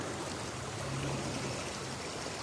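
River water flows steadily close by, a constant broadband rush and trickle with no talk over it.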